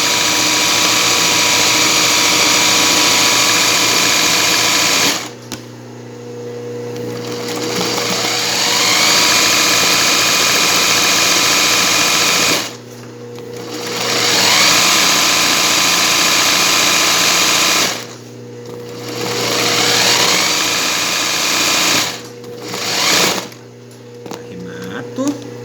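Sewing machine stitching a richelieu finish on a tablecloth runs in loud, steady bursts of several seconds each, with short pauses between the runs.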